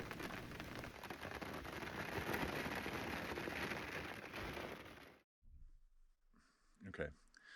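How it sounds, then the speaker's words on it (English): Steady rain patters on and around a Naturnest Orion roof top tent, a dense even drumming that cuts off abruptly, followed by quiet with a few faint knocks and rustles. "With the tent all set up, I took a break while it rained outside"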